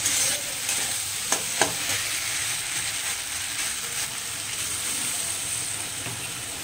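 Aloo posto frying with poppy seed paste, tomato and green chilli gives off a steady hiss and sizzle, with a few sharp utensil clicks early on before the frying settles into an even wash.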